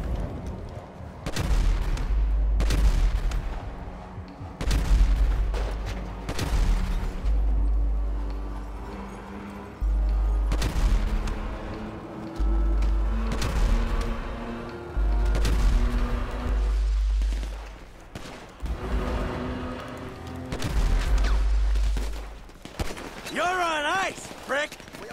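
Gunfire in GTA 5, repeated heavy booming shots and bursts at irregular intervals over about twenty-five seconds, loud and close, with a wailing tonal sound near the end.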